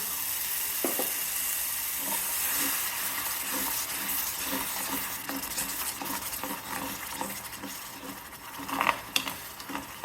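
Ground tomato paste sautéing in a pan for a drumstick and coconut milk curry, a steady close sizzle with a rhythmic scrape-and-stir pattern and a few louder clinks near the end.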